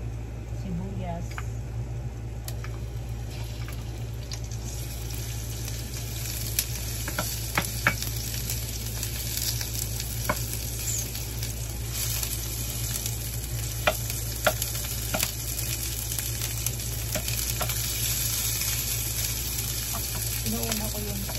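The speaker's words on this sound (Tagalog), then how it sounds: "Inuuna ko yung sibuyas" Onions frying in oil in a pan for Filipino dinuguan (blood stew), a steady sizzle with occasional stirring clicks over a constant low hum, while a person talks intermittently.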